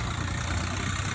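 A tractor engine idles with a steady, dense low rumble, close and loud, with no talk over it.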